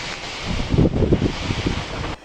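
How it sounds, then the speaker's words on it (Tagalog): Strong typhoon wind roars and buffets the microphone in a steady broadband rush, with a gusty swell in the middle; rain is not clearly distinguishable. "Ramdam sa probinsya ang malakas na ulan at hangin"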